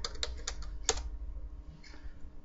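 Quick bursts of keystrokes on a computer keyboard while typing into Notepad, a few close, light clicks followed by a quieter pause.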